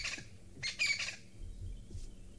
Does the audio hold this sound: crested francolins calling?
yes